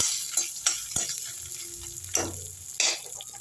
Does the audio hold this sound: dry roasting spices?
yes